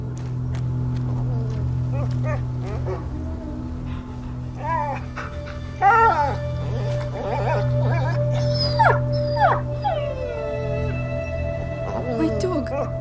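A wounded dog whimpers and yelps in video game A Plague Tale: Innocence, with pitched whines and short cries over a low steady hum.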